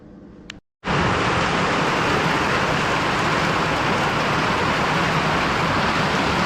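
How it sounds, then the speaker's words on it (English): A wooden staircase spindle blank is planed for a Victorian staircase repair. After a brief soft start and a short silent gap, a loud, steady, close-up roar runs without a break to the end. "First, I'm going to plane it."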